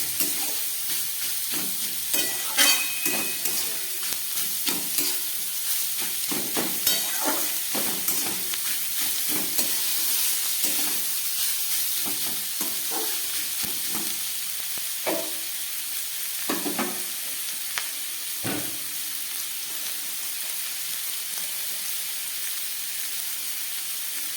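Vegetables with grated ginger sauté in a hot pan, a steady sizzle running throughout with repeated scraping and stirring strokes of a spoon against the pan, fairly close and continuous.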